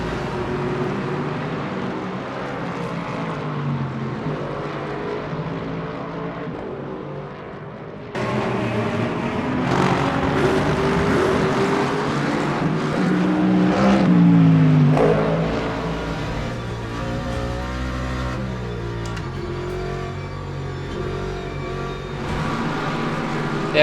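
A race car engine in a racing video game played on a PXN CB1 button box setup, droning steadily at a moderate level with shifting pitch as it revs up and down through a lap, with no talking.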